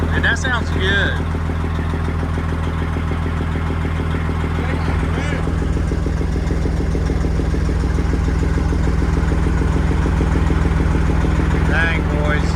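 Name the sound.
truck engine idling with new straight pipe exhaust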